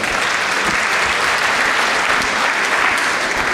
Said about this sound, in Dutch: Uw applaus voor schepen van de stad Hasselt, Joost Fenken, alsjeblieft.